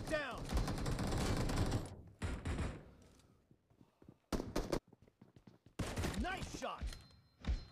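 Bursts of rapid automatic gunfire and single shots in a BGMI match, loud and close, broken by short pauses, with talk and game sounds mixed in.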